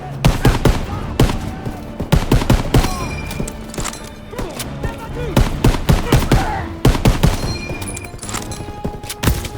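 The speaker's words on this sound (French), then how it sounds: "ces mitrailleuses tirent sur notre position!" Machine guns fire in the Call of Duty WWII video game, with dense rapid bursts and sharp shots packed together, loud and close, with battlefield clatter and faint voices mixed in.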